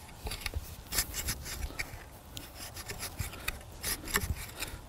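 A tool is dragged through soil, cutting citrus tree roots, giving a run of close, uneven scraping and rasping strokes with no voices.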